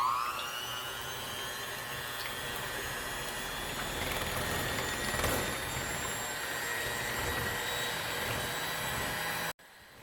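An electric hand mixer whisks egg whites toward stiff peaks for a chocolate soufflé, a steady high-pitched whirring close by that runs alone for about nine seconds before cutting off abruptly.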